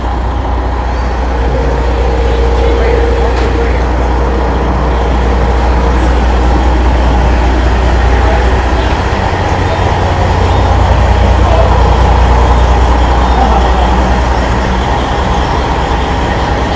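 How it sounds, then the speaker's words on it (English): Heavy military vehicles rolling past in a steady, loud, continuous low rumble with mechanical rattling, unbroken for the whole stretch and with no talk over it. "All military vehicles going."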